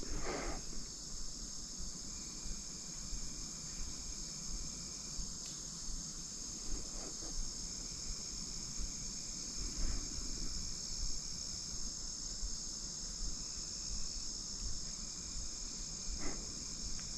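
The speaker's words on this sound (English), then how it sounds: "Sounds like the cicadas are going too." Cicadas buzz in a continuous high drone throughout, steady and fairly loud, with occasional faint rustles and clicks underneath.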